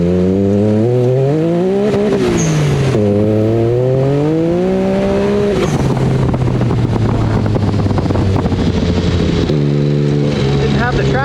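A 300hp+ Mirage buggy engine on boost revs hard on dirt trails, loud and close, rising in pitch through gear shifts with a tearing rasp, while a voice talks over it.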